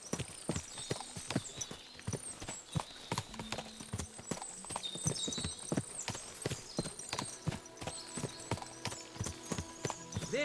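Horse hooves clip-clop in a steady walking rhythm in Kingdom Come: Deliverance II, crisp and close, with faint tack jingles and ambient background sounds, no speech.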